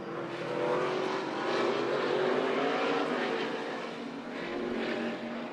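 Stock race cars from the ARCA Menards Series West roar through a road-course turn, a dense, steady engine drone swelling and easing as the pack passes, loud and continuous with no talk.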